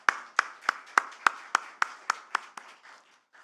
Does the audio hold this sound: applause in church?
yes